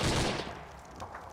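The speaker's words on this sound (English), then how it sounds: "we have gunshots inside the state capitol building" Gunshots ring out inside a state capitol building during a staged insurrection scenario, a loud burst of firing that booms and then decays into reverberant echo.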